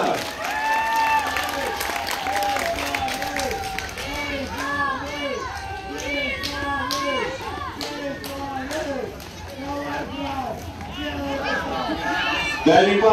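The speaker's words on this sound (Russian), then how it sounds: "Я бы хотел услышать максимально бурные аплодисменты болельщиков за команду нападения бизона." Fans at an amateur American football league game in Ukraine, Bisons of Zhytomyr playing, cheer and clap for the offense, a sustained mass of crowd noise with many children's voices shouting and chattering over steady applause.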